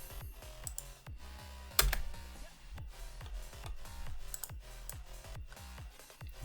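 Fast, clattering typing on a computer keyboard: rapid irregular key clicks with a few louder thumps, fairly faint and close, with no one talking.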